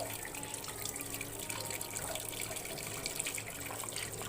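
Water streams steadily from a pipe into a Godrej AUDRA 7.0 kg fully automatic top-load washing machine filled with clothes, a soft, even gushing and splashing heard fairly quietly with no talking.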